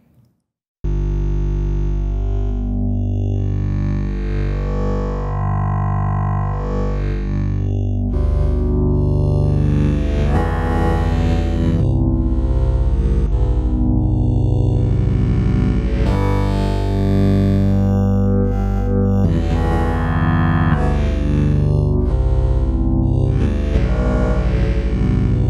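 Sustained ASM Hydrasynth tone using WaveScan oscillator mode, timbre shifting and morphing smoothly over time, bright harmonics sweeping in and out, loud and continuous without voices.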